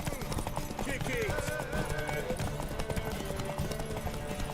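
Horse hooves clip-clop in The Witcher 3 game, a steady rhythm of hoofbeats heard beneath a man's speech and busy game audio.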